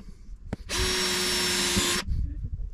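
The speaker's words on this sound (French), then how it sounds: "une mèche à bois, c'est pratique. Il y a la pointe au milieu." A power drill fitted with a wood bit bores into a plastic kayak sonar case, a single loud, steady high whine lasting about a second and a half, framed by quiet handling knocks before and after.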